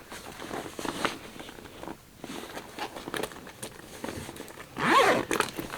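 A zipper on a bag pocket is drawn open in several short ragged pulls, close and fairly loud, ending in one longer louder zip near the end, with no talking.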